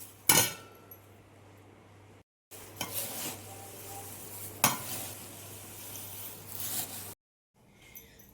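Wet, scraping stirring of flattened rice with tempering in a bowl, with occasional clinks, broken by two short pauses; no talking.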